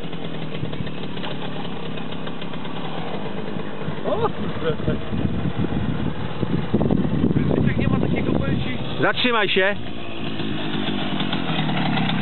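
A Romet Pony motorcycle engine runs with a steady, buzzing putter close by, revving slightly at times, while someone speaks Polish over it.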